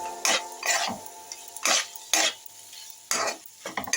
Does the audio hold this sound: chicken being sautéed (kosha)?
yes